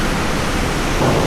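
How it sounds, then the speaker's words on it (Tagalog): Loud, steady rushing floodwater roars continuously, a dense broadband wash like a strong torrent close by, with no voices. "Ang lakas ng tubig"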